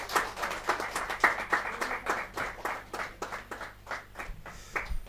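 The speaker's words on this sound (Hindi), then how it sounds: "जोर तालियां बजाते रहो भाई" An audience at a Hindi comic poetry gathering claps in a steady, rhythmic beat of sharp hand claps, moderately faint and continuing for several seconds without talk.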